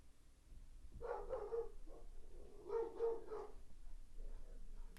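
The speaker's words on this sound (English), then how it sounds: "And the dogs are barking." Dogs barking indoors in bursts, a few quick barks repeated in short clusters at moderate distance, fairly faint under a low room hum.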